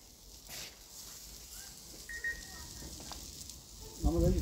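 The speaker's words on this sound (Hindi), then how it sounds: "यहाँ पे मैं समोसे फ्राई कर रही थी" Samosas frying in hot oil in a home kitchen, a soft steady sizzle and crackle with a few louder bubbling bursts near the end.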